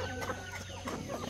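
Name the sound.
rooster clucking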